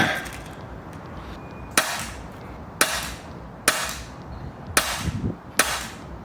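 Air rifle firing H&N Field Target Trophy pellets on a bench, five sharp close cracks spaced about a second apart against a quiet background.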